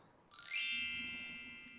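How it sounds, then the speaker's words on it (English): A phone's text message notification: a single bright ding that rings out and slowly fades, with a faint low hum in the background and no speech. "when she texts them to Willie, we will all hear this sound."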